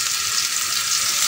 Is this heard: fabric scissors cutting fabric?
no